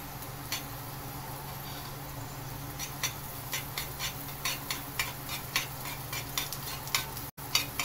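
Leftover masala for stuffed okra being stir-roasted in oil in a pan over higher heat, with a steady low sizzle and regular light scrapes and taps of a spoon against the pan, close and alone.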